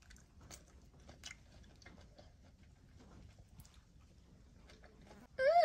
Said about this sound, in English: I'm gonna taste it to see how it tastes.